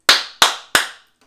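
Three sharp hand claps, evenly spaced and close, each with a brief ringing decay, followed by quiet.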